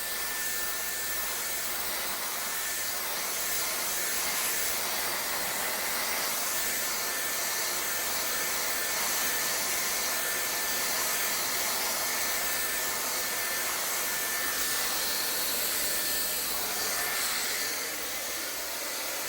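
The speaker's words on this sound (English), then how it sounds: "You can still blow dry it without actually doing a lot of rolling to it." A hair dryer blows steadily on hair, producing a loud, continuous whooshing hiss with a thin whine that persists without a break for about twenty seconds, close to the listener and with no one talking.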